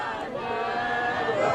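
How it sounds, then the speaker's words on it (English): Large New Year's crowd gathered on the Esplanade by Edinburgh Castle, a dense, steady roar of many voices cheering and shouting, loud and continuous without a break. "This is the crowd up on the Esplanade by Edinburgh Castle."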